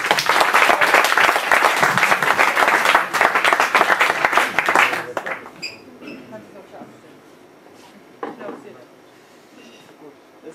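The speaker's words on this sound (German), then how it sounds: "Ein kräftiger Applaus für Ronny!" A crowd at a 2013 existentialist performance in Bamberg claps heartily for the performer, a loud burst that fades after about five seconds into a few scattered claps and quiet room noise.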